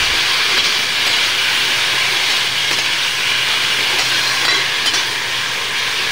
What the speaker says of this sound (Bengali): এখানে আমি এটাকে নাড়া দিচ্ছি।